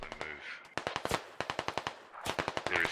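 Rapid bursts of automatic gunfire from a Squad Ops military video game, sharp repeated shots in uneven clusters, loud and close, with a brief pause mid-sequence before firing resumes.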